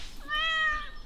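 A pet cat in the farming game Stardew Valley gives one clear, drawn-out meow lasting about a second, alone with no talk over it.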